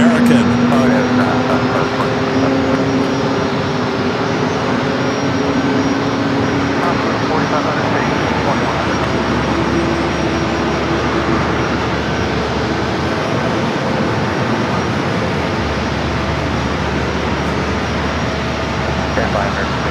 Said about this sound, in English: This flight heading to Charlotte, A321 Neo with American.